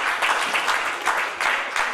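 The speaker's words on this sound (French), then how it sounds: "Je vais demander vous-même applaudir-toi avec un gros bravo." Audience applause at a church children's programme, a steady burst of clapping from a crowd filling the short moment on its own.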